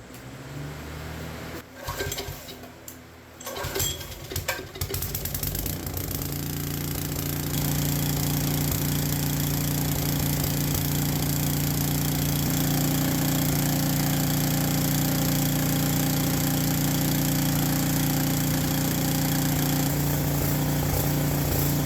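A small Troy-Bilt tiller engine, running without its shroud, runs loud and steady after a few sputtering starts, a constant rattling drone that fills the whole stretch.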